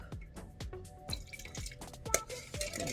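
Lime juice drips into a bowl of dipping sauce for spicy fermented-fish rice noodle salad in a quick series of close, distinct plinks and small splashes, with no talk.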